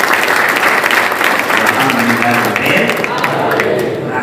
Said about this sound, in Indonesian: Tepuk tangan untuk koalisi.